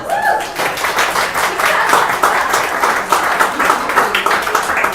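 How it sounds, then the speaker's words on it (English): A crowd at a community meeting in a brewery breaks into sustained applause, dense clapping that holds steady throughout, close and loud. "Can we give them a round of applause?"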